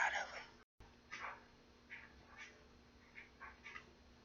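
A pranked cat meows in a string of short, faint cries scattered across a quiet room, with a brief dropout near the start.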